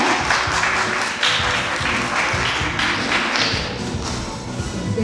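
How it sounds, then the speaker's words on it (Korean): An audience at a webtoon festival conference claps to welcome the authors on stage, producing full, sustained applause with a few louder thumps mixed into the steady clatter. "여러분 박수와 함께 맞아주시기 바랍니다"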